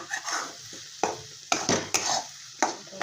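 Egg bhurji frying in a pan is stirred with a utensil, giving a steady sizzle broken by several sharp scraping knocks of the spoon against the pan, close and alone with no talking.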